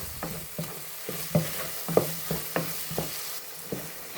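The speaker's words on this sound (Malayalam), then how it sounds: "എല്ലാം കൂടി മിക്സ് ചെയ്തു." A spoon scrapes and stirs coriander powder and spices through onion and tomato in a pan for sambar, giving evenly spaced scraping strokes over a soft sizzle, close and alone.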